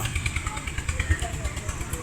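A Swaraj 855 tractor's diesel engine chugs close by in a steady, low, rhythmic throb, with faint voices underneath, at a tractor fair in Talwandi Sabo.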